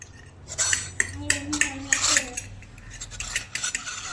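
A child playing with toy plates and pots, making close, irregular clinks, clatters and scrapes of small dishes knocking together, with faint voices in the background.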